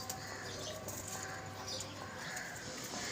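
A pigeon coos faintly at a pigeon club amid a constant noisy outdoor background, soft low calls barely rising above the hiss.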